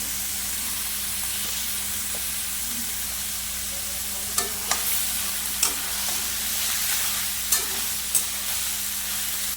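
Banana flower with salt, turmeric and spices sizzles steadily in a pan, with several sharp scraping stirs of a spatula rising over the continuous frying hiss and a faint low hum beneath.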